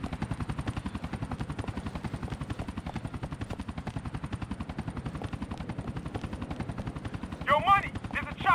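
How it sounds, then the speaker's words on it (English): Steady rapid rotor chop of an arriving helicopter in Grand Theft Auto 4, loud and continuous throughout, with a brief burst of other game sound near the end. "There's a chopper turning up."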